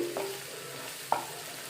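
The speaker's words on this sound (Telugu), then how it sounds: "జీలకర్ర వెల్లుల్లిపాయ పేస్ట్ పచ్చివాసన పోయే వరకు వేయించుకుని ఇది బ్రౌన్ కలర్ వచ్చే వరకు అలా వేయించుకుంటానే ఉండాలి" Cumin and garlic paste fries in a pan for a goat brain curry with a soft, steady sizzle, interrupted by two brief spoon scrapes or taps, one near the start and a sharper one toward the end.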